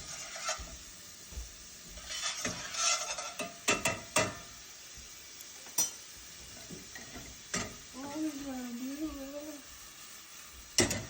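Onions cooking down in a pot for shrimp Alfredo, a quiet sizzle with occasional stirring clicks and scrapes against the pot, close and fairly faint, with a brief voice partway through.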